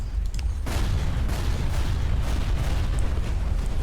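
Heavy Worldbreaker guns in Battleforge pound a boss on a tower defense map, a dense continuous rumble of booming artillery-like blasts at steady loudness, with a sharper burst near the start.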